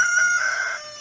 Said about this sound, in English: That is the sound of a hen that is about to be gang piled by a bunch of roosters and is going to get hurt.